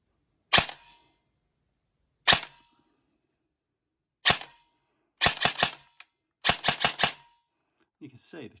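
Specna Arms airsoft rifle, an upgraded SA-H02 or SA-E07 running an 11.1 battery, firing on semi-auto: sharp close snapping shots, three single spaced shots then quick bursts of three and four, followed by faint handling.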